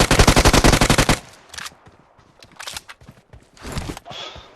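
Rapid automatic gunfire from PUBG Mobile rattles loud and close for about a second in a dense burst of evenly spaced shots, followed by scattered footsteps and a few shorter, quieter bursts of noise.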